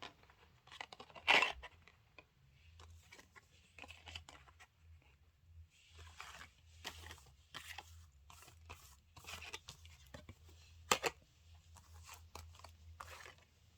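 Tarot cards are shuffled by hand at close range, soft riffling and slapping bursts in an irregular rhythm against a quiet room hum.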